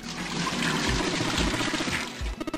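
Water poured in a video game, a steady continuous splash and trickle filling most of the stretch, closing with a few quick gurgling pulses.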